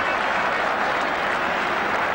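Football crowd applauding at an early-1980s English league match, a steady dense roar of clapping filling the stadium throughout, with no voice on top.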